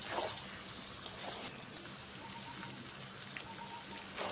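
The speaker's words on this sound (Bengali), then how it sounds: "খুব ভালো করে খুন্তি দিয়ে নাড়তে হবে কষা মাংসটাকে" Chicken kosha frying in a pan and stirred with a metal spatula gives a faint, steady rain-like sizzle, with occasional soft scrapes near the start and end.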